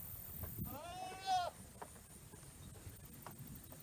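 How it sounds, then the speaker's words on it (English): Baby goats at a farm playground let out a single clear, wavering bleat in the middle, with quieter rustling and faint farm background before and after. "This is our little baby goat playground."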